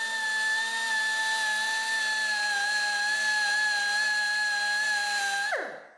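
A Dynabrade Dynafile belt sander grinds into metal welds with a steady, loud, high-pitched whine that holds evenly, then winds down and stops in the last half second. No one talks.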